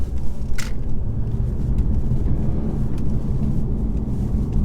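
A 2019 Mercedes E400d diesel accelerates hard, its engine a steady, loud low rumble heard from inside the cabin, with a brief higher click near the start and no speech.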